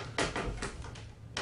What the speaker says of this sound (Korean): 이 썩은 나무 소리가 어때?